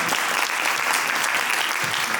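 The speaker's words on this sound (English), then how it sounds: "I want to also give them a round of applause for their work during this 6 months." Conference audience applauding at an anti-hate event, dense continuous clapping filling the room, fairly loud and steady with no talk over it.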